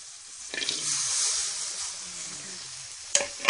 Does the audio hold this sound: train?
no